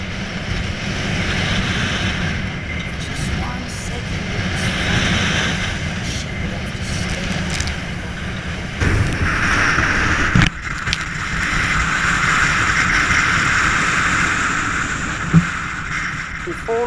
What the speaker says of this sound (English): we are seeing winds steadily at 40 knots and we are now sailing in force 8 wind conditions